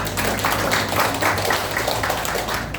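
Audience applause at an Indonesian political volunteer-team declaration gathering: a steady, dense wash of clapping lasting a few seconds, fairly close and even in loudness.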